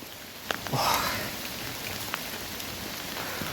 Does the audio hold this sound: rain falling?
yes